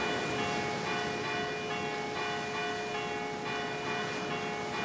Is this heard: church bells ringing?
yes